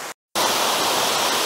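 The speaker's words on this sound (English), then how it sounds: "a wonderful waterfall" Waterfall in a park in the Northern Caucasus mountains of Chechnya, a continuous broad rushing roar heard close and steady after a brief silent gap at the start.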